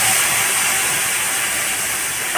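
A ginger, cumin and green chilli paste sizzles in hot oil while cooking a fish curry with raw mango, a loud, close, unbroken hiss with no one speaking.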